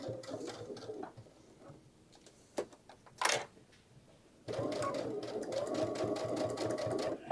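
A sewing machine tacks a seam on a tote bag in two rapid, rattling bursts, one brief at the start and a longer one after a quiet gap with faint knocks, close and fairly loud, with no talking.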